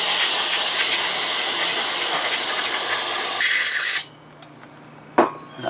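An aerosol spray blasts steadily into an outboard carburetor bowl from a Johnson Evinrude motor, a loud continuous hiss that cuts off abruptly, followed by near silence and a short clunk.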